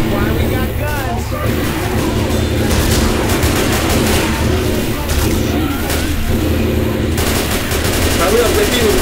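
Sustained automatic gunfire from Left 4 Dead 2 hammers on through the whole stretch, dense rapid bursts with booming hits, loud and close, with some talking mixed in.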